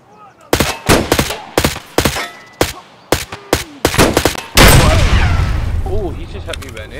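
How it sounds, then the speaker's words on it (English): Gunfire in the video game Escape from Tarkov, a rapid string of loud, sharp shots in uneven bursts, followed by a sustained rumbling blast with a voice faintly underneath. "he literally just shot through the wall and killed me"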